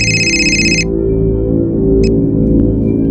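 Incoming call on a phone, a bright electronic ringtone tone that plays loudly then cuts off, followed by a short single chirp, over a steady low musical background.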